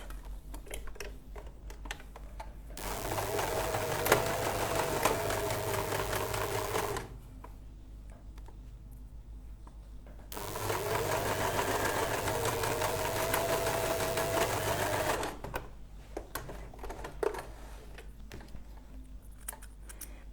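A sewing machine stitches staple-fabric dress material in two sustained runs of several seconds each, with a steady close whir and quieter handling pauses in between.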